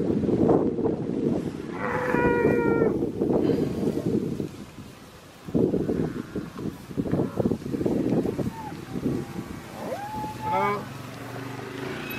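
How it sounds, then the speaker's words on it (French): A herd of cattle moos repeatedly while blocking a road in Queensland, the calls drawn out and overlapping near and far amid wind and a low motor hum. "nous sommes bloqués par un troupeau pour quelque temps avec le farmer qui est en quad"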